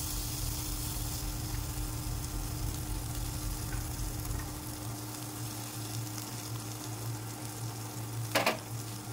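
Drumstick flower tomato chutney in a pan gives off a steady soft sizzle and hiss as it is mixed, with a low hum that drops out midway and a sharp scrape of the spoon near the end.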